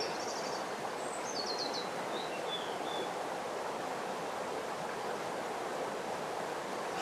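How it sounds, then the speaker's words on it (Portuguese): Water running between rocks in a stream near an abandoned village, a steady broadband rush filling the whole stretch, with a few faint bird chirps early on. "O barulho de água passar entre os rochedos."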